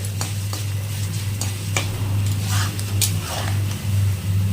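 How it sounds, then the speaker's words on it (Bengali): Rice is stirred and fried in a pan while preparing a radish dish, producing a loud, close sizzle with repeated scraping strokes of the spoon over a steady low hum, no speech. "চালটা ভালো মতো ভেজে নিতে হবে"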